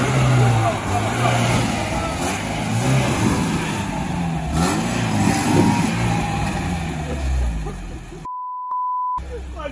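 Car engine revving and straining while trying to drive off-road on a trip to a large cave, loud and steady, with people talking over it and a short electronic beep near the end.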